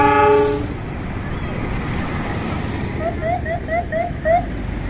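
The Pirangga Jati passenger train approaches Bumiayu station in Indonesia, sounding a loud horn at the start, then a steady rumble of wheels and carriages rolling past with a series of short squealing screeches near the end.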